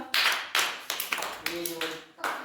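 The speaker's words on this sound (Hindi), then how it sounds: "सुफियान के लिए तालियां" A small group of children claps for a classmate in a classroom, several short bursts of clapping in an uneven rhythm, close and moderately loud.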